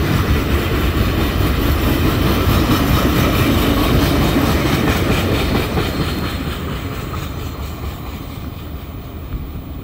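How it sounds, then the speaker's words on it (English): The tail end of a train rolls past at close range, a loud steady rumble with rhythmic clickety-clack that gradually fades and thins out toward the end as the last cars go by. "And here's the end of the train."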